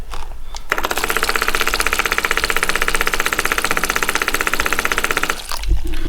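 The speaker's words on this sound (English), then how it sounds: "Some people call them, what, a click pump or something?" An electric click-type fuel pump running steadily while pumping gas, a loud, fast, even ticking pulse that starts abruptly, continues for several seconds, then cuts off, heard alone without talk.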